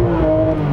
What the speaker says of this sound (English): we can hear some Porsche flat-six naturally aspirated goodness